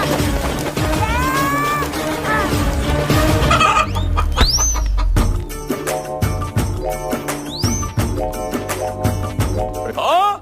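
Loud, close Singapore chickens clucking and squawking repeatedly during a village Sankranti rooster fight, with sharp rising calls and busy flapping, scuffling noise throughout.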